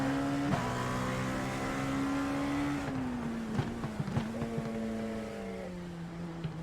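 LMP2 prototype race car in iRacing launching from a standstill on the Nürburgring GP circuit, a steady buzzing engine drone that climbs through gears with brief clicks and shift blips, moderately loud and alone.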